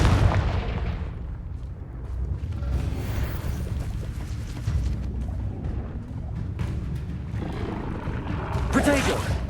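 Fire spell explosions and combat effects from the video game Hogwarts Legacy, played on PC, form a dense, continuous rumble of booms and bursts that stays steady and loud, with a brighter blast near the end and game sound mixed in.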